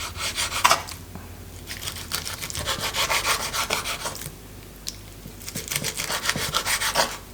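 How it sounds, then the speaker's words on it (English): A knife slicing Dutch new herring into small strips on a board, with repeated rasping strokes in quick rhythmic bursts separated by short pauses, close and fairly quiet. "I will slice these in small strips so that's more easy to work with."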